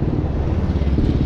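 A motorcycle engine drones past on a street in Ravenna, Italy, a continuous low rumbling roar at fairly close range, brief and without talking.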